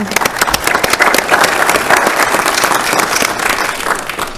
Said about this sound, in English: we thank you and we applaud you.